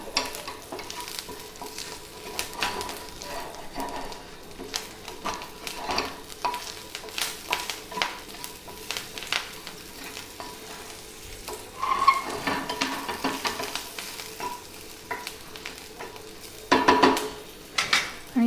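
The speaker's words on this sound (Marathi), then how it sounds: "हा जो लसूण आहे ना बारीक चिरून घेतलेला आहे आणि मिरच्या घेतलेल्या आहेत 2-4, त्या थोड्याशा फ्राय करणार आहे." Finely chopped garlic and a few chillies fry in a pan with a soft, crackling sizzle, while repeated stirring scrapes and light clinks of a utensil against the pan come and go close by.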